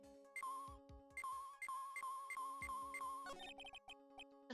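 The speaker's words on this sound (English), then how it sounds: "A cell phone." A cell phone rings in the Ace Attorney Justice for All video game, a repeating electronic ringtone melody with regular beeping pulses over a background music bed, fairly faint, with a brief shift in tone near the end.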